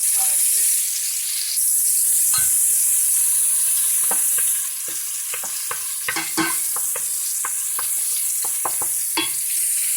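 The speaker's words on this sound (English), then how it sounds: "Put a little olive oil in the pan. And add in some garlic and get that going." Garlic sizzles steadily in olive oil in a pan, a continuous broadband frying hiss with scattered sharp crackles and pops throughout, close and fairly loud, no talk.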